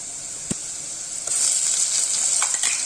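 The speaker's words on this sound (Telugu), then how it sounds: "ఇప్పుడు ముందుగా మిక్సీ పట్టి పెట్టుకున్న మసాలా పేస్ట్ని వేసుకున్నాం" Oil sizzling and hissing in a pan, growing louder after a light clink as a ground masala paste for mutton curry goes in, then a steady crackle with faint stirring.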